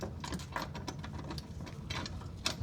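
Bolting a running board bracket onto a 2022 Toyota 4Runner: close, busy mechanical clicks and ratcheting taps over a low rumble, with a brief sharper clank near the end.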